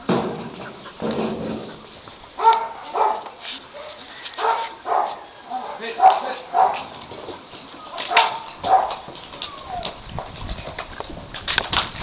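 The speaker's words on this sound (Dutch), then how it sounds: "Kijk uit voor die hond, hè?" A dog barks in repeated sharp bursts, loud and close, with some whimpering yips between the barks and faint background noise.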